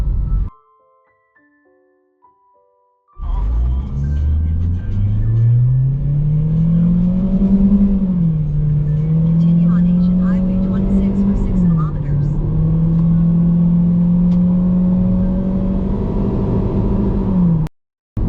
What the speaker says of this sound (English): And that's 100 kph kph, man. It took a while, and it was accomplished with a lot of noise.